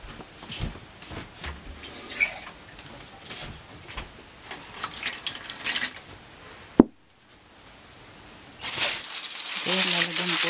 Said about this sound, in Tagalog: Lalagyan po natin ng water.